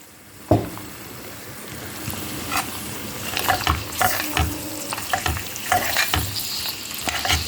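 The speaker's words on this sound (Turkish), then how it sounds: "Güzelce karamelize olana kadar soğanlarımızı etle beraber harmanlıyoruz." Sliced onions and meat fry together in a hot pan, a steady sizzle broken by scraping and clattering stirs that come and go, close and fairly loud with no voices.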